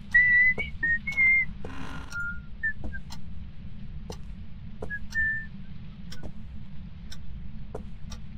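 A person whistles short, wavering tones in an attic while a clock ticks steadily, with a low constant hum beneath and no talking.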